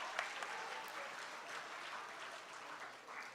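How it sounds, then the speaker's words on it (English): Steady applause from a crowd at a primary school graduation ceremony, a dense continuous patter of many hands, fairly distant and soft, lasting throughout without break. "Let's give them another round of applause"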